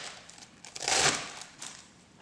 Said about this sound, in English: we're going to cut up some lettuce here